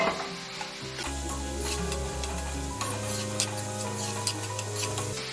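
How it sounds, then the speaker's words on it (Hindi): Onion and beans frying in hot oil in a home kitchen pan while a bread cutlet is being made, a steady close sizzle with stirring, and no voices over it. "गर्म हो चुकी तेल हमारी। अब मैं इसमें प्याज डाल देती हूँ।"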